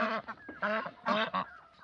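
A few loud, nasal honking quacks from ducks, close by, in quick irregular bursts over a couple of seconds.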